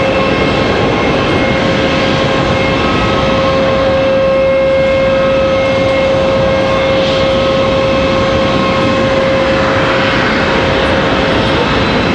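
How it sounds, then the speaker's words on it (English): A Delta CRJ regional jet arrives at Raleigh-Durham International Airport at night, its engines producing a loud, sustained roar with a steady high whine that stays prominent for the whole stretch. "Another Delta CRJ arrival there behind us."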